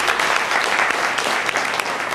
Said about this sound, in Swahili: Tupigie makofi tena.